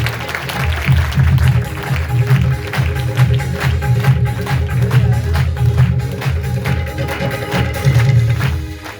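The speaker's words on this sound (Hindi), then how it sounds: "जोरदार तालियां पात्रों के लिए।" Church congregation applauding during a Sunday sermon service, a steady wash of clapping lasting throughout with a low rumbling crowd bed and some voices mixed in.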